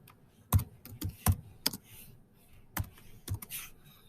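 Keys clack on a computer keyboard as a file name is typed for a new form, with a handful of separate sharp taps spaced out irregularly, close and fairly quiet, and no voice.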